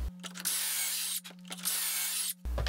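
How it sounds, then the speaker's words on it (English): A power drill drives pocket screws into wooden cross beams for a headboard, whirring in two long bursts with a brief pause between, each start and stop clearly marked, close and steady. "I'm just gonna use some pocket screws."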